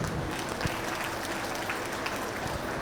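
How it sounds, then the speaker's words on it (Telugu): An audience claps for Narender at a rally event, a steady moderate round of applause lasting the whole stretch without talk. "నరేందర్ గారికి గట్టి క్లాప్స్ అండి"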